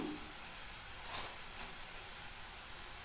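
Tomatoes go into a hot pan for a chickpea curry and give off a faint, steady sizzle and hiss. A couple of soft clinks cut in over the quiet frying.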